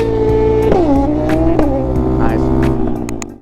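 A stunt Honda Grom motorcycle revs loud and close while doing wheelies at a Honda launch day event, its engine note rising and dipping a few times before fading out at the end.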